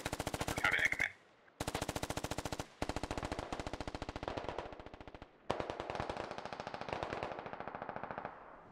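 Rapid automatic rifle bursts lay down suppressive fire in a SquadOps tactical shooter operation, loud and close, with several long strings of shots separated by brief gaps.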